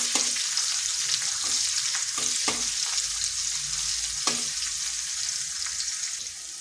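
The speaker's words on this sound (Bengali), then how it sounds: "রসুনটা একটু ভেজে নিচ্ছি" Chopped garlic fries in a pan over medium-low heat, giving a steady, moderate hiss of sizzling oil. A few light clicks of stirring break through at intervals, with no talking.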